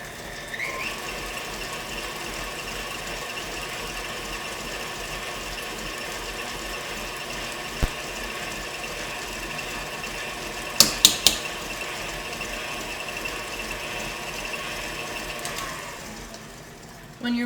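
An electric mixer beats cupcake batter with a steady, continuous motor whir from start to finish, broken by a few sharp clicks near the middle, and then winds down just before the end.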